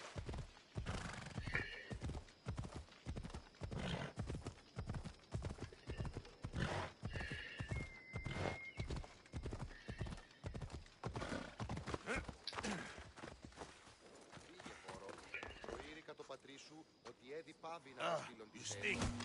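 Clip-clopping hooves trot steadily while a horse neighs and whinnies in Assassin's Creed Odyssey on PS4, with a voice talking over the noisy, busy game sounds.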